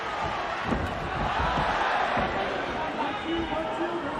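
Arena crowd at a Pride mixed martial arts event roaring as a fighter fires back, a sustained wash of cheering with a commentator's voice running over it.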